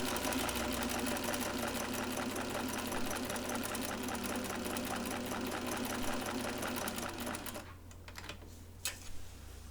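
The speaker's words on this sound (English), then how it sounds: "I'm stitching from the high shoulder to the center front neck." Sewing machine stay-stitching a deep neckline on fabric, a steady rapid needle chatter running loud and close for most of the stretch, then stopping abruptly near the end, leaving a few light handling clicks.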